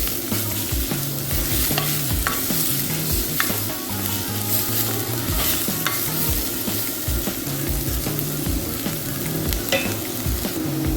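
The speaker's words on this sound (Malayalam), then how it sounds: "നമുക്കിത് നല്ലൊരു ബ്രൗൺ കളറാവുന്നത് വരെ നമുക്കൊന്ന് വറുത്ത് എടുക്കാം." Ginger, green chili and onion fry in a pan until browning for a tamarind and jaggery pullinji sauce, a constant sizzle broken by repeated scraping stirs, close and alone without voices.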